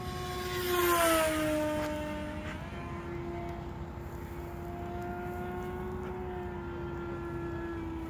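A Durafly Me163 RC model plane takes off and flies. Its electric motor whine swells and shifts pitch as it passes close, then settles into a steady, fainter drone as it flies away.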